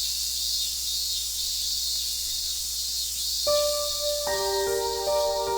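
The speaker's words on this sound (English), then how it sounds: "Burning sunlight and the sound of cicadas" Steady high-pitched insect droning fills the air like cicadas, constant and loud, joined near the end by a few clear tonal chirps.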